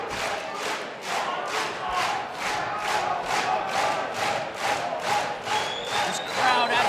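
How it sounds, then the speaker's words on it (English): A large crowd at an MMA fight roars continuously with rising and falling waves of cheering and shouting, loud and close, the noise never letting up. "This crowd absolutely roaring."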